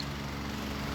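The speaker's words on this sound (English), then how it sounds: "Keep the fan on to keep it a little cooler in there" Steady broadband whirr of an electric fan running close by in a greenhouse, constant and unbroken.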